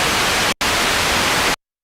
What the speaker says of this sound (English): It's white noise.